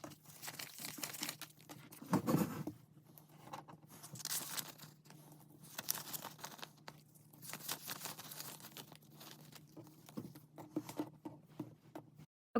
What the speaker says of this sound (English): So I'm just going to lay out my cash